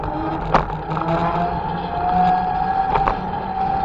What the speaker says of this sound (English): Traffic on the street now.